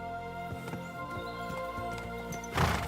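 Horse in the video game Kingdom Come: Deliverance 2 clopping in a short run of steady hoof strikes over background music, ending with a louder burst that could be a snort or whinny.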